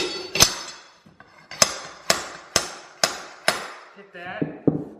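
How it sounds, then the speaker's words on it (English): Hammer blows strike a felt-backed pounding bar to tighten new flooring boards in a bedroom remodel: about seven sharp, close, loud knocks at a steady pace, each ringing out briefly, with no talking. "Then use your hammer."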